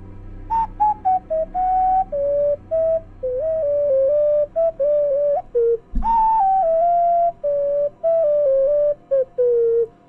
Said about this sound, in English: you reminded me that I have my replica Ocarina of Time within arm's length